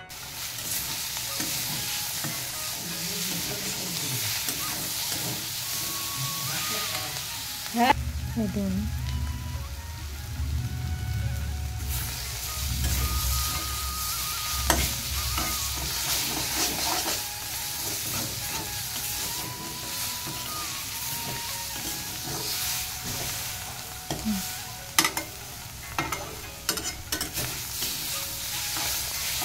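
Radish greens with fried onions stir-fried in a pan, a steady close sizzle with scraping stirs throughout and a brief quieter break partway, a few clinks of the utensil near the end.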